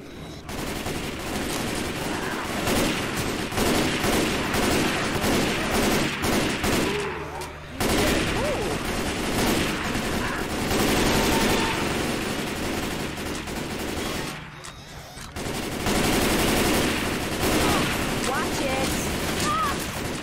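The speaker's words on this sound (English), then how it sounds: "Grabbing the chain gun." A chain gun firing nonstop in Left 4 Dead 2 survival mode at a gun shop, a dense, loud roar of rapid automatic fire lasting many seconds with brief breaks, players' voices occasionally mixed underneath.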